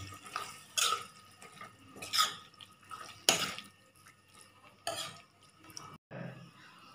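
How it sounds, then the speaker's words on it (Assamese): Chicken malai masala being stirred in a pan after salt is added: a few separate bursts of spoon scraping and wet clattering against the pan, spaced a second or so apart, close and fairly quiet. "ইয়াত নিমখ দিয়াৰ পিছত অকণমান লৰাই দিছোঁ"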